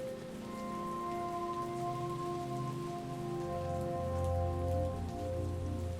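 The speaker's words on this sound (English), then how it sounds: "Gotta walk in the rain." Steady rain falls and patters on surfaces while a character walks through it in a video game, a continuous even wash of drops with a low sustained musical tone underneath and no talking.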